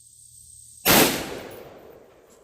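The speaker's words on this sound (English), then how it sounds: "taking a 50-yard sighter shot down here" A single gunshot from a 16-inch carbine rifle fired outdoors on a 50-yard range, one loud, sharp crack after near silence, followed by a fading echoing tail, with no voices.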